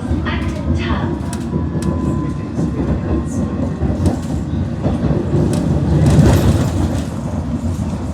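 A London Underground 1938 stock District line train runs along the track near Ealing Common, a loud rumbling ride with rattling and clattering, swelling toward the end.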